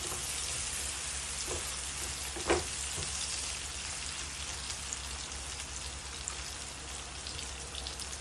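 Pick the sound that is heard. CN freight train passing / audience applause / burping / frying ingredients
frying ingredients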